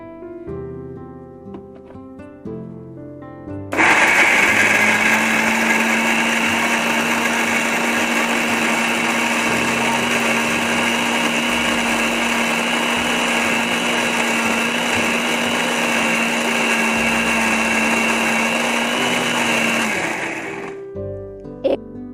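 A kitchen blender grinds spices, including black or white pepper powder, into a paste for a peri peri chicken marinade. It kicks in abruptly and holds a loud, steady, high whirring grind for about sixteen seconds before cutting off, with no talk.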